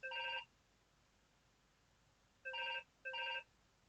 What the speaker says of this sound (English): And is anyone going to answer that phone?